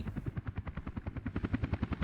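A helicopter in the city-building game Workers & Resources: Soviet Republic comes in to land, its rotor beating in a steady rapid chop that sounds fairly close.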